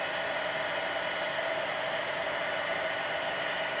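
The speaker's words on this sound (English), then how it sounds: "the heat tool embossing" Heat tool blowing hot air to emboss a stamped card, a constant loud whooshing roar like a hair dryer running steadily the whole time with no talk.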